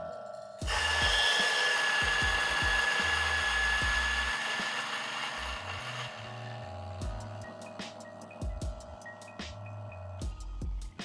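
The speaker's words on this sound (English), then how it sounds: "So just turning on the grinder" A DF83 flat burr coffee grinder whines loudly and steadily as it starts up and grinds. The pitch drifts lower over several seconds, and near the end of the run there are light knocks and clicks.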